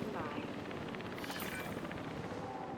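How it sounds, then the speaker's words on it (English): Helicopter in the video game Jurassic World Evolution 3, a loud, continuous rotor roar with steady rhythmic blade chop that swells briefly in the middle, filling the whole clip. "Please report for dig site selection as the helicopter is standing by."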